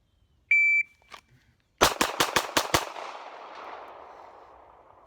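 A Glock 19 pistol with a threaded barrel fires a rapid string of six sharp gunshots in quick succession, loud and close, their echo trailing off after a faint electronic beep and a small click.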